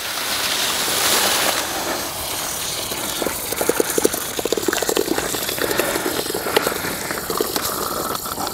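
Used deionizer resin beads and water are dumped into a shipping box, giving a continuous wet, gritty rush with scattered clicks and rattles, close and steady throughout.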